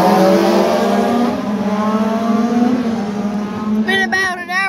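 Legend cars racing on a track, their engines a loud, steady droning roar that shifts pitch as they run down the back straight, with a wavering rise near the end.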